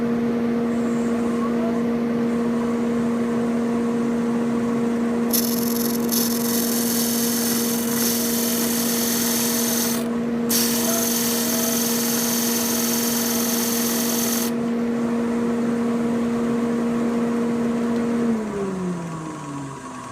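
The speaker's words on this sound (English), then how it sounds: "turn on my dust collector, turn on the machine at the right speed" A Shopsmith disc sander runs alongside a dust collector in a woodshop, making a loud steady motor hum. Harsher bursts of abrasive sanding against wood come midway, then the machine spins down at the end.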